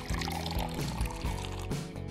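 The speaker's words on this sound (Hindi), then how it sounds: "लिक्विड को टेस्ट ट्यूब में से पाउडर के साथ फ्लास्क में डालें।" Liquid is poured from a test tube into a flask holding powder during a classroom chemistry experiment, giving a short, close, steady trickling pour with no voices.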